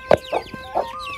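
Chickens clucking indoors inside a mud-walled house in the Cholistan Desert of Punjab, Pakistan, with young chicks wandering the room; a few short, close clucks spaced through a quiet moment, no talking.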